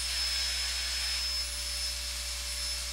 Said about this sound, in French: Bon, là, il y a l'aspirateur.